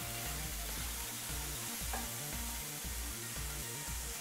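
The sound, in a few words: onions sizzling while frying in a pan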